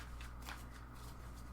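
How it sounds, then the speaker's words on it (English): Oracle cards are shuffled by hand in a brief, steady, close papery riffle with soft rhythmic flicks and no talking. "Okay, I'm feeling content with my shuffle."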